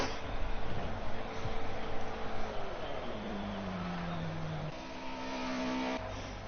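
BMW E30 race car engines in a racing video game drone and rev steadily, one engine pitch sliding down as a car slows into the pits, with other cars humming underneath.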